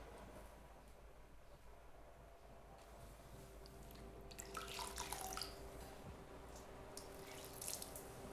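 Tap water runs into a sink, quiet and close, swelling midway into a brighter splashing stream with scattered drips over a faint background hiss.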